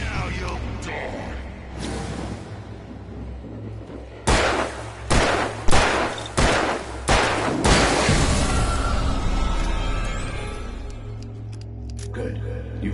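Five or six loud, evenly spaced gunshots from a handgun in the Alan Wake video game ring out one after another over a low background drone, with a calm voice speaking before and after the volley.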